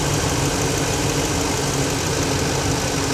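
A diesel truck engine runs at a steady, even RPM, a continuous dense rumble close to the microphone with no change in pitch or level.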